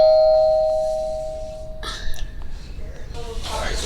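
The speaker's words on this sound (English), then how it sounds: "That's the doorbell sound." A Wyze video doorbell kit sounds a single bright electronic chime that rings out and fades, followed by people talking nearby.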